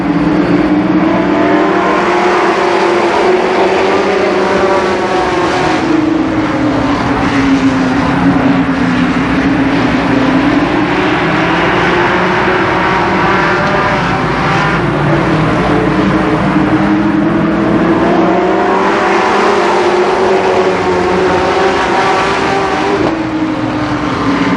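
Race cars roaring around the oval at Columbus Motor Speedway, a loud sustained engine drone that rises and falls as the pack circles past, continuous for the whole stretch.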